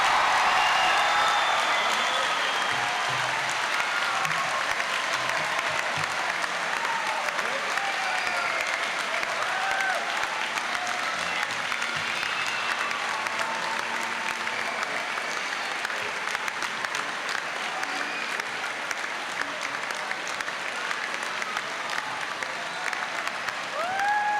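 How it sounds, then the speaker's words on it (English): A large crowd applauds the graduating class of 2006 at a high school graduation ceremony, a steady dense wash of clapping that holds loud and even for the whole stretch, with faint cheers and whistles rising here and there. "Let's give them a round of applause"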